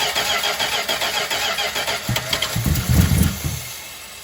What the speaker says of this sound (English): What's that horrible exhaust leak noise?